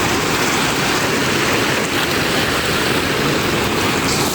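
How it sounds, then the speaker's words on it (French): Large ocean waves break on a beach on Réunion, a loud, continuous roar of surf and churning water with steady wind noise and no pauses. "Regardez la taille des vagues."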